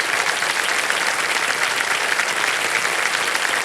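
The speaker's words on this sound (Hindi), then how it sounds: "तालियां बज जाएं इनके लिए।" Loud, dense studio audience applause on a quiz game show set, a continuous wash of clapping with no voices over it.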